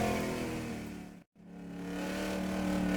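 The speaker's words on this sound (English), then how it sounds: "Next out onto the track in the number 17 Fox Body Mustang for Puff Racing" A number 17 Fox Body Mustang street stock car heading out onto the track to qualify at Boomtown Speedway gives a loud, sustained engine roar that cuts out sharply for an instant, then swells back to full volume.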